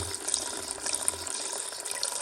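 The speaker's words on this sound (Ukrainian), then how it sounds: "повільно вода тече" Water streams steadily out of underfloor heating pipes being flushed at home, a continuous hissing, splashing flow at close range with no talk over it.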